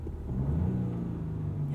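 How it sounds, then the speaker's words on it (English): Turbocharged three-cylinder engine of a 2021 Chevrolet Trailblazer LT AWD hums steadily at low revs from inside the cabin, a continuous near rumble with slight rising pitch and no talk. "Yeah, turbo 3 cylinders."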